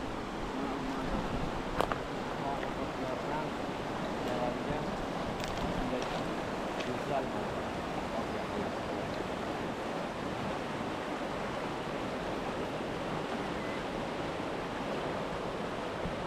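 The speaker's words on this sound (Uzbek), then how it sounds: "Bu Norin daryosiga borib quyiladi." River flowing toward the Naryn River in Kyrgyzstan, a steady broadband rush of water that holds even and continuous throughout, with no talk over it.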